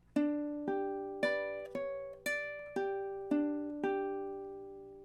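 A ukulele plays a measure of a love song, eight plucked notes and chords in a gentle, even rhythm, each ringing briefly before the next, close and clear with no talking.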